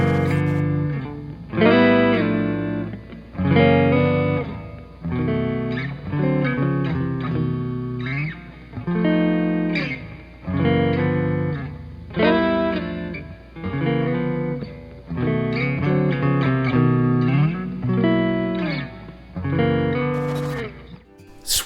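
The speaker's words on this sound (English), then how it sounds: "The Hotrod isn't best known for its heavy distortion sounds, but that's where the pedals come in" An electric guitar through a Fender Hot Rod amp with distortion pedals plays heavy, saturated chords and riffs in rhythmic phrases, thick and sustained with brief gaps between strums, alone without talking.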